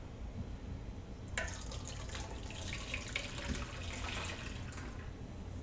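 A mixture of vinegar and unpasteurized milk poured through cheesecloth to strain it, a steady faint splashing trickle that starts about a second in and runs on, with no talking.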